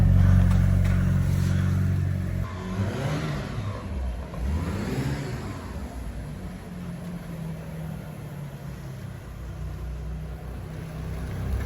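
A 1993 Eagle Talon pulls away with its engine revving loudly at first, then settles into a steady, moderately loud drone as it drives off.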